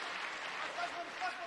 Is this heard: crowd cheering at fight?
yes